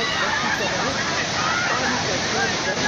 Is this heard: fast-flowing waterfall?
yes